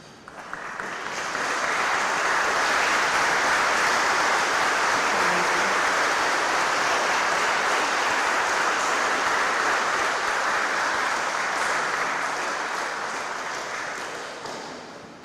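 Sustained applause from mourners at a funeral, dense and steady for about fifteen seconds, swelling in quickly and easing off slightly toward the end, with no voices over it.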